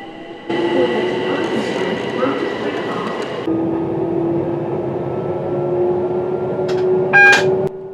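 A train on London's North and West London lines, heard from the driver's cab, gives a steady rumble with a high whine and a faint squeal. It runs continuously and close, with no talk over it.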